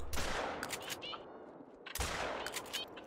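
Two loud bursts of rapid gunfire in the hunting game theHunter: Call of the Wild, each followed by a fading echo, with a brief lull between them.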